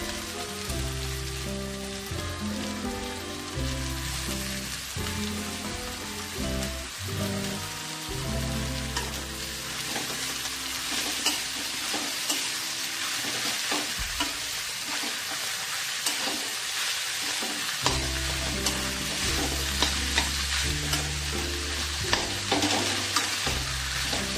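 Bharangi greens sauté with dal and onions in a pan, giving a dense, steady sizzle with stirring scrapes throughout, heard under a loud low tonal music bed.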